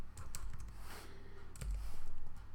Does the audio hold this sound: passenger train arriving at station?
no